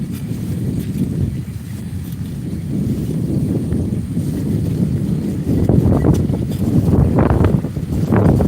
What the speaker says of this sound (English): A lot more wind for us to push through.